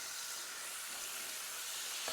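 Chicken sizzles steadily in a hot pan, a continuous close crackling hiss with no voices.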